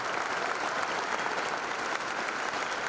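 An audience applauds a speaker's support for a bill including crop insurance, a sustained, even wash of clapping heard from a moderate distance.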